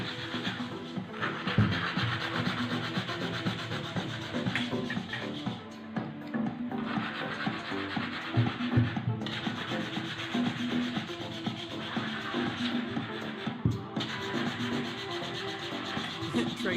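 Continuous rough sanding, a steady gritty scrubbing that rises and falls in long strokes, close and fairly loud with no talking.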